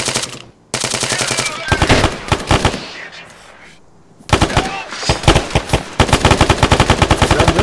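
Bursts of automatic weapon fire in Arma 3 rattle loud and close in rapid repeated volleys, broken by brief lulls, with a near-constant barrage toward the end.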